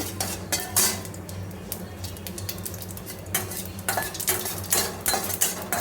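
Makhana (fox nuts) frying in a pan for a healthy snack, with a steady soft sizzle under repeated scraping, stirring and light clinks of a utensil against the pan, fairly close and moderately loud.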